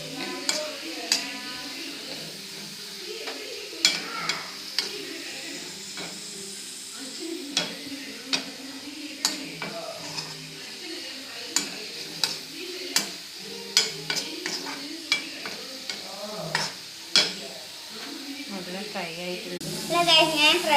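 Food fries in a pan with a constant sizzle, broken by frequent scraping and clinking stirring strokes in an irregular rhythm.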